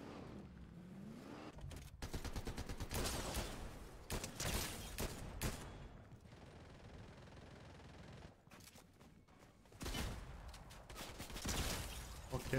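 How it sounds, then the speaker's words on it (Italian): Gunfire in a video game crackles in dense rapid bursts and scattered single shots, fairly faint and distant, with short pauses between volleys. "Ecco, sento spari."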